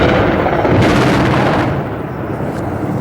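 Big explosions from Tomahawk cruise missile and guided bomb hits during the Iraq War, a loud continuous booming roar with dense rumbling that swells, then eases slightly after midway, sounding close and overwhelming.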